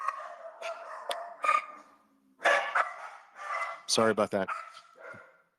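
Dogs bark and yip in bursts in the background while someone talks over them, with a loud cluster of barks near the end.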